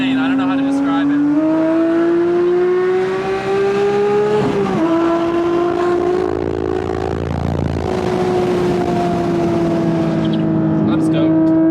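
A modified Porsche 992 GT3 flat-six engine and exhaust, heard from the front, holding a loud steady howl that rises, dips briefly and climbs again, close and continuous.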